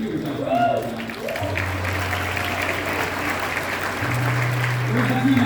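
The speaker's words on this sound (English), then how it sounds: "You give yourself a round of applause" Audience applause at a motivational talk fills the room, a broad wash of clapping with a low steady hum and tonal background sounds underneath, fairly constant in level.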